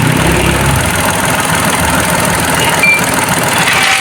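A Mitsubishi Mirage Hotbox engine idles steadily during an outdoor service check, a loud, even mechanical drone with no voices over it.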